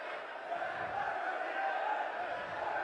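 Opposition members in the legislative assembly shout together, a steady, fairly faint roar of many raised voices blending into one continuous din.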